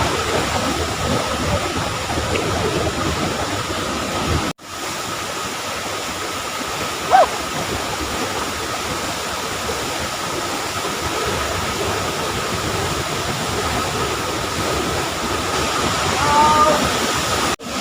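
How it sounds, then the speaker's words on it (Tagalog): Tuasan Falls in Catarman, Camiguin, a constant, dense roar of falling water close by, with people's voices faintly mixed in. "Itong Tuasan Falls, dito rin yan sa Katarman matatagpuan."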